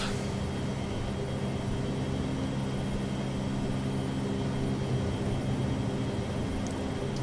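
A Boeing 737-200 in a flight simulator game climbs just after takeoff, its engines a constant broadband roar with a low steady hum, unbroken throughout and with no talk.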